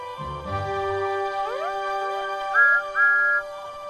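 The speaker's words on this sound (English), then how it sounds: ""Hooray!" whistled Thomas." Steam locomotive whistle of Thomas the Tank Engine, a cartoon tank engine, sounding in several sliding, harmonic-rich toots with two louder blasts near the end, over faint background music.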